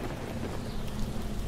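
Steady dense rain with a low thunder rumble in a radio play's storm sound effect, a continuous broadband wash with no voices over it.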